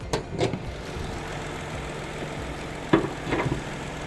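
A Mitsubishi Attrage car engine idles with a steady mid-pitched hum, and a couple of knocks or clunks rise above it near the start and again later.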